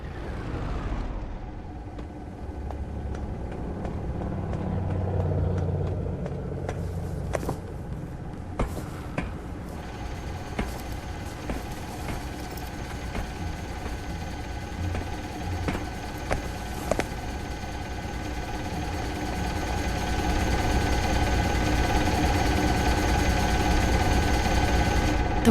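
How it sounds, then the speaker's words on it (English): A car engine cranks and catches after a starter repair, then settles into a steady low idle rumble with scattered sharp clicks and knocks, growing somewhat louder toward the end, with no talk. "The starter should work now."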